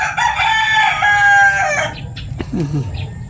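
A rooster crows once, loud and close, its call stretching over a second before trailing off, followed by a few softer clucks.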